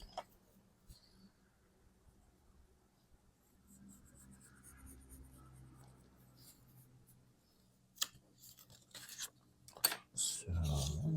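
Pencil drawing on paper for gelli print stationery, faint soft scratchy strokes in a quiet room, in short intermittent bursts, with a few louder handling bumps and rustles toward the end.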